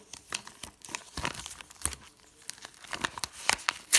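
Plastic packaging of a capybara surprise toy being crinkled and torn open by hand, a busy run of close, uneven rustles and sharp crackles.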